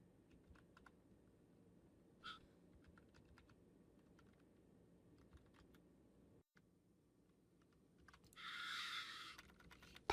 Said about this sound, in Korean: accept에서 키보드로 컨트롤 C 눌렀을 때